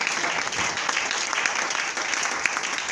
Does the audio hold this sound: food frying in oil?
no